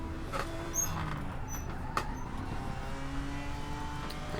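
A race car engine drones steadily at Imola in a multiclass racing game, a faster class car approaching behind, with the engine note holding and shifting in pitch at moderate loudness and no talking.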